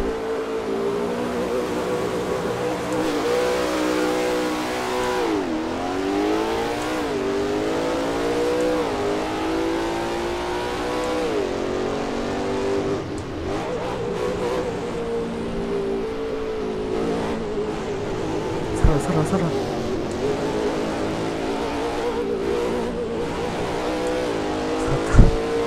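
Ford Raptor engine in Assetto Corsa revving steadily through gear changes, a loud continuous drone with rising and falling pitch sweeps and a few sharp clunks near the end, no talking.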